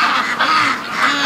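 Free-range ducks gathered at a farm gate, a loud close chorus of overlapping quacks and honking calls carrying on steadily with no pauses.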